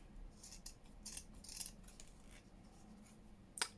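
Scissors cut a zigzag edge off paper, quiet crisp snips and rustling paper in several short bursts, ending with a sharper click close by.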